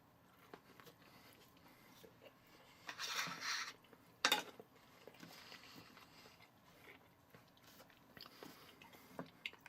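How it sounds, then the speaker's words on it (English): Someone bites into a small pizza baked in a Chuck E. Cheese's kids toy pizza oven, with crisp browned crust; a brief crunchy bite and a few soft chewing sounds, close and quiet, with no talking. "here is the first taste of a pizza made in my Chuck E."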